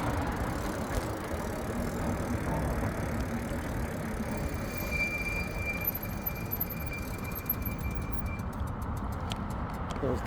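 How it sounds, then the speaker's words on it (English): A light rail train passes at a city crossing in Edmonton, its wheels squealing in a high thin whine over steady rumbling street noise, with sharper squeals building near the end. "So the train is on its way now."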